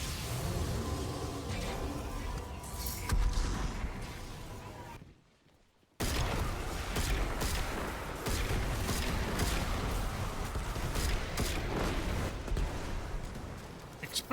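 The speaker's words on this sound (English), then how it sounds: "Explosion!" Loud, dense burst of explosive blasts in the Destiny 2 video game, a sustained rumbling barrage that cuts to near silence for about a second before the booming and crackling resumes at full strength.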